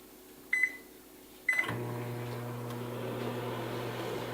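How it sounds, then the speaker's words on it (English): A microwave oven heats steak sauce: two short beeps of its keypad, then a click and a steady, low electrical hum as the oven starts running close by. "I'm going to put it in the microwave"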